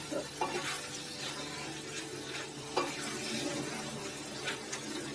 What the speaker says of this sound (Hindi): बस इसको बॉईल होने के लिए मटर ऐड करेंगे।